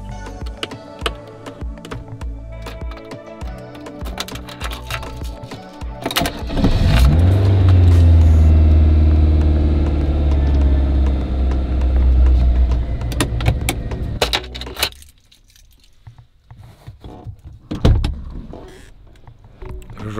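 A car drives along at a steady engine hum that swells louder midway, then cuts off and falls quiet, with clicks and knocks scattered throughout.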